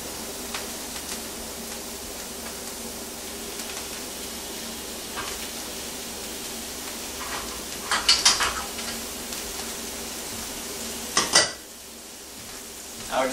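Shallots and butter sizzle quietly in a pan for a cognac steak dinner. The soft, steady frying hiss is broken by a few brief clinks and scrapes of stirring, with no talking.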